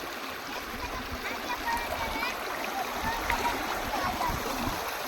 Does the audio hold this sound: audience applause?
no